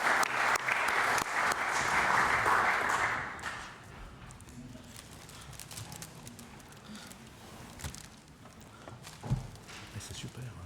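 Applause in the Swiss Council of States chamber at the close of the 50th legislature fades out after a few seconds, followed by quieter room noise with scattered footsteps, shuffling and faint talk.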